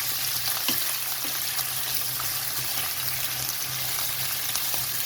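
Large shrimp sizzling as they are added to garlic frying in oil, a loud continuous crackle with small pops and taps from pieces being placed, no voices.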